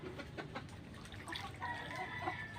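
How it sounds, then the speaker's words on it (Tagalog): Chickens kept beside a drainage ditch during flooding, softly clucking at a distance amid faint outdoor background noise and trickling water. "Yung mga manok namin nandito lang sa may gilid."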